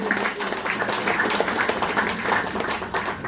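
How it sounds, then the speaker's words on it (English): An audience at a BK airport terminal sod-turning ceremony in Bartica, Guyana, gives a round of applause for the BK family, steady dense clapping from many hands at moderate volume throughout. "Can I get a round of applause for the BK family, please?"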